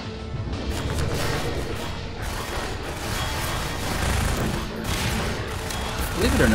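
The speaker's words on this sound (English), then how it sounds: "this is its usual autocannon, but then it starts to almost, like, rapid-fire it" A Strider's autocannon rapid-firing in the video game Half-Life 2: Episode 1, a dense, continuous barrage of heavy shots and crashing impacts, loud throughout.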